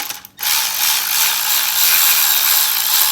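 A ratchet clicks rapidly and steadily as it loosens bolts while spark plugs and coil packs are changed. The loud, close clicking starts after a brief pause and carries on alone to the end.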